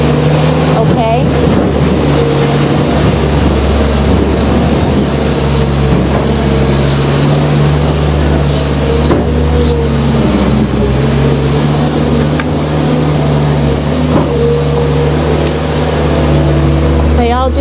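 Skid steer loader rolling past on a farm, a steady loud low engine drone with a constant hum that stays close and continuous throughout, with no clear approach or fade.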